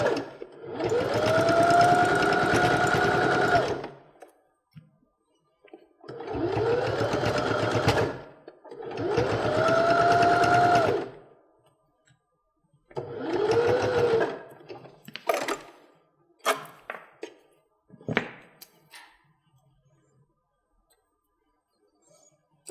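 A sewing machine topstitches binding onto a quilt, running in four steady bursts of stitching separated by short pauses, then a few lighter clicks and taps as the stitching stops.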